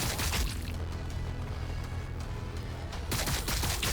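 Gunfire in a Warhammer 40,000 Blood Angels video game: dense, continuous volleys of shots rolling together at steady loudness, swelling into heavier crackling bursts toward the end.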